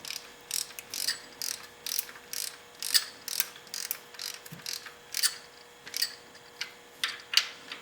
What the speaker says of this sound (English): Tighten one side down slightly, tighten the other side down,